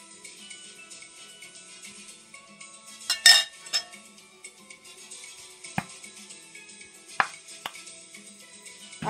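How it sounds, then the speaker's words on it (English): Spoon clinking against a glass or jug while honey is stirred into fresh sugarcane juice in a home kitchen, a few sharp clinks and scrapes scattered over quiet background hum. "You give it a stir"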